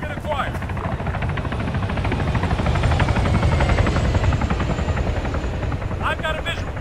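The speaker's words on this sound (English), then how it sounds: "I've got a visual. Helicopter." A helicopter in the military game Arma 3 drones steadily throughout with a constant rotor thrum and engine whine that swells slightly mid-way, close and loud, with faint voices underneath.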